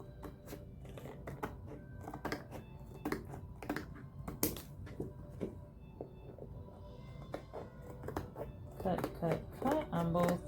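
Scissors cut through a Dollar Tree placemat in a run of quick, crisp snips and clicks, close and fairly quiet, with a soft voice faintly present at times.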